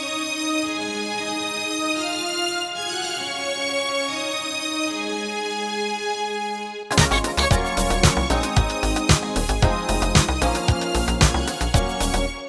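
Sustained, reverberant synth string chords play softly, then a dense layer of deep synth basses and busier instruments enters loudly partway through, recreating a song.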